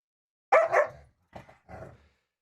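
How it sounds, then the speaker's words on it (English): Dogs bark in three short bursts, a louder double bark followed by two quieter ones, heard fairly close and alone without talk. "It's the dogs going crazy."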